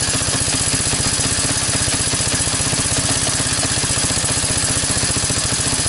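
A 1985 Honda ATC 200S engine idles on the fuel left in its carburetor, a close, steady low putter with an even rapid pulse and no talking.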